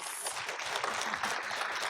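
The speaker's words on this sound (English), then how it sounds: "let's give a big round of applause" Audience applause for students and their kumu (teacher) at a public session on Hawaii natural resources: dense, steady clapping from a crowd, sustained and moderately loud throughout the short stretch with no voices.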